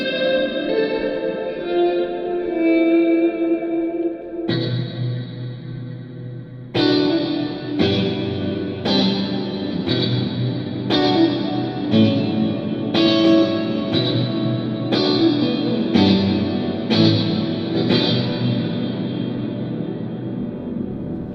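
Electric guitar chords struck one after another inside a nuclear power plant, each ringing out into a wide, washing reverb that fills the large space and lingers between strums.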